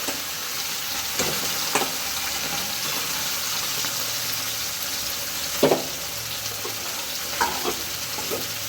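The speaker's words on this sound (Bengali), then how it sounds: "বেশি করে তেল দিয়ে দুটো পার্টে ভেজে নেবো।" Amudi fish frying in plenty of hot oil, a steady close sizzle and crackle running throughout with a few sharper spatters and utensil scrapes.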